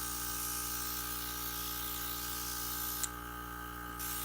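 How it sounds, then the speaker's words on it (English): A spray bottle mists water through the color well of a cookie-decorating airbrush gun, producing a steady, close hiss of spray and air that runs continuously with a faint tick near the end; no talking. "I'll just use my spray bottle and keep spraying until this comes clear."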